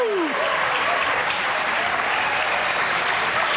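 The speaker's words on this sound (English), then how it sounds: "hold on, applaud this" A studio audience at a 1984 television game show applauds a returning champion with steady, loud, sustained clapping that fills the room from start to finish.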